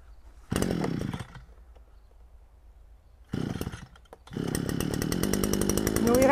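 GPT TBC-522 petrol grass trimmer starting: a short burst of engine, a pause, another brief catch, then the two-stroke motor settles into a steady, loud buzzing run nearby.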